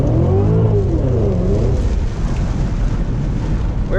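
A Cadillac CTS-V drives and drifts through a thunderstorm, its loud, steady engine roar and tire noise blending with heavy rain drumming on the car for several seconds, with no voices heard.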